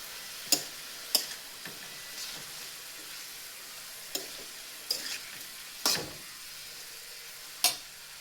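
Sprouted green gram stir-fry being stirred in a pan, with a handful of sharp scraping clinks spaced irregularly over a soft, steady sizzle, fairly quiet and with no voices.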